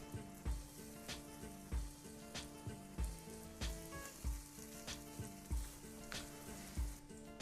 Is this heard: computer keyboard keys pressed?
no